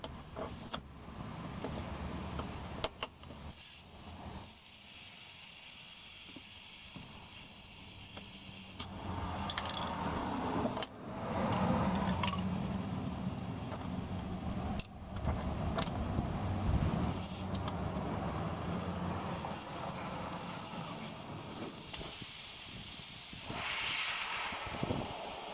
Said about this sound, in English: You can hear all the air shooting out of that.